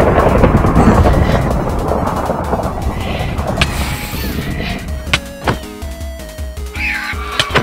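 Thunder from a lightning strike in Minecraft VR rolls as a loud, deep rumble over the first few seconds, then fades into scattered sharp game clicks, thumps and short tonal blips.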